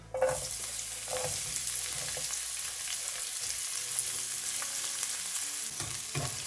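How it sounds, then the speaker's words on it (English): Onion and capsicum fry in oil in a pan for a chicken pizza topping, with a steady close sizzle and a few soft stirring knocks. "Cook it for a few minutes until it goes light brown."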